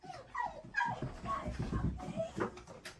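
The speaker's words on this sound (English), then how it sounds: "He switched from his big bark to his baby bark as soon as he realized it was grandma at the door" A dog gives soft, high little baby barks and whimpery yips at the door on realising a family visitor is there, a run of quiet close vocalizations in quick succession.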